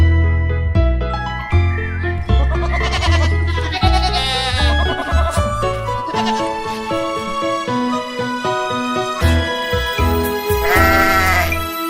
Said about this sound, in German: träumte sie, hörte sie blöken